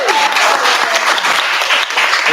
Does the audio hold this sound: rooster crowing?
no